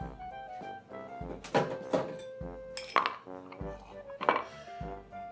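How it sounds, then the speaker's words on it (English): New York Sour cocktail strained from a shaker over a large ice cube: scattered clinks and knocks of glass, metal strainer and ice, uneven and close, with quiet pouring between the hits. "And then we're gonna strain over our large ice cube."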